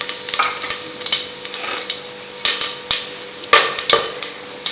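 Cinnamon, cloves, bay leaf and fennel frying in oil for pepper chicken biryani, with a steady sizzle under repeated sharp clicks and clatters of a spoon stirring in the pan, close and fairly loud, with no talking.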